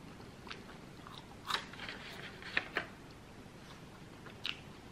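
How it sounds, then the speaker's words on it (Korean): Bites and chews on big, mouth-stuffing bites of pizza, with several crisp crunches spaced a second or so apart over a low, steady background, close and fairly quiet with no talk. "이렇게 크게 왕창 와구와구 먹으면 맛있나?"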